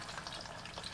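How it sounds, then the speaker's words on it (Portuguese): Homemade pork sausage fries in fat, giving a brief, quiet, dense crackle and sizzle with no voices. "Agora nós vamos deixar fritando."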